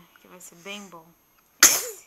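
A young child's single sharp sneeze bursts out loud and close during a melon-eating meal, following a stretch of an adult's gentle talk and then a short pause.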